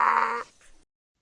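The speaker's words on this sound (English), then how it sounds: "Now let's listen to the cat sound." A single cat meow, loud and close, with a strong drawn-out tone that fades into a short softer tail, heard alone.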